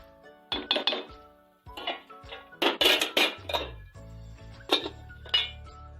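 A metal lid goes onto a cooking pot of palak gosht (mutton with water, before the spinach is added), giving a close run of sharp clinks and clatters in bursts with short pauses between.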